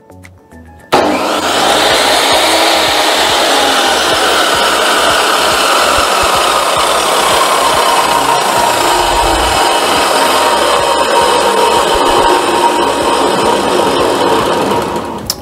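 A Stanley 1801 10-inch table saw switches on abruptly and runs at a steady, loud, high-pitched whine that holds constant throughout, with no talking.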